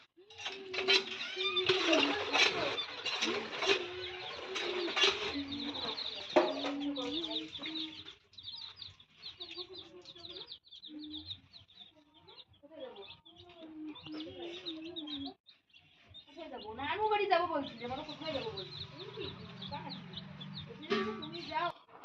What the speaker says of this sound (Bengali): রঙিন রঙিন মুরগি